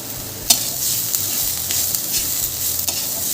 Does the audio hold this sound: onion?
yes